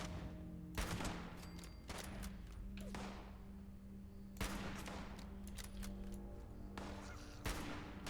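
Gunfire in the video game Fallout 76: a series of sharp shot bursts spread across the clip, some clustered in quick volleys, others spaced out, at moderate distance over a steady low ambient hum.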